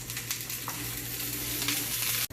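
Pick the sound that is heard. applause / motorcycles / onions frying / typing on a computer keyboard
onions frying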